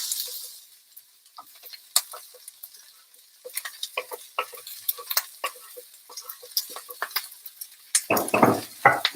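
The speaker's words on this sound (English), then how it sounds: "You give that a quick stir. Now things are sizzling." Onions fry in a hot pan while being stirred, giving a soft, crackling sizzle with scattered clicks and scrapes of the utensil. A louder scraping burst comes near the end.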